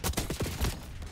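Rapid bursts of gunfire from Black Ops 6, a quick cluster of several sharp, loud shots within about a second, close and punchy, with no talking.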